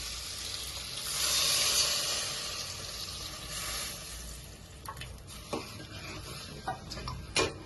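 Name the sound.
tamarind juice poured into frying pan, sizzling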